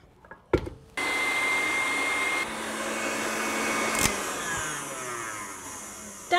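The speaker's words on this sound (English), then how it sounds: "Now we're making a meringue out of our egg whites. I like to use an electric mixer" An electric mixer whips egg whites into meringue for a classic chocolate mousse, a steady loud whirring drone starting after a few clicks and running continuously with slight changes in pitch.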